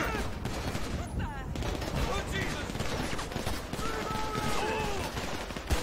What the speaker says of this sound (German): Wieder so eine Schießerei.